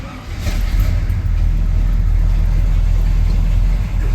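Big block Chevy engine in a Squarebody Chevy truck, running after an oil pan gasket replacement: a loud, steady, deep idle rumble with a brief rev near the start, close by, no talking.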